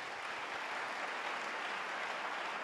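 A church congregation applauds at a sermon, giving dense and steady clapping throughout at moderate loudness with no voice over it.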